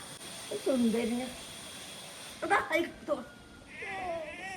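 A cat meows in three separate drawn-out calls spread over a few seconds, close by against a quiet background.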